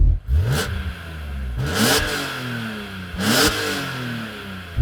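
A BMW M car is revved during a sound check before a drag race: three sharp throttle blips, each rising and falling quickly, over a steady idle rumble, close by with no voices.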